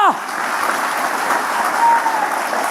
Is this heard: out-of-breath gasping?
no